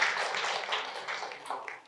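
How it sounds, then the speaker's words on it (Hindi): Applause fills the room at a Buddhist vihara gathering, a dense, steady clatter of many hands clapping at moderate distance for the full length without a break. "जोरदार तालियां।"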